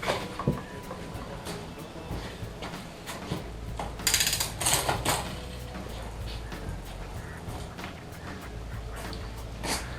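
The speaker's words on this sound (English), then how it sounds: "So we're going to go ahead and move our chain down." Mechanical clicking and ratcheting from a road bike's chain being shifted down across the rear derailleur cogs, close up, with a brief louder rattling burst midway over a steady background.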